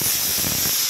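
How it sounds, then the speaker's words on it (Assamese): A pressure cooker whistling and venting steam in a home kitchen gives a steady loud hiss that fills the whole second without a break. "চিটি মাৰি আছে কুকাৰটো"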